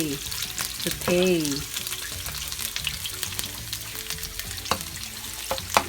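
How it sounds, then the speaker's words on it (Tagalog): Onion, garlic and ginger sizzle in a pan as the base for a sautéed clam soup, with a steady close frying hiss, scattered spoon clicks and a brief tonal call early on. "Kailangan lang po natin silang i-saute."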